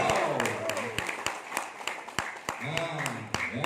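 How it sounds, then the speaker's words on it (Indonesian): Scattered hand clapping from a seminar audience, sharp separate claps over an ongoing hum of talk and crowd voices. "Sekali lagi berikan tepuk tangan"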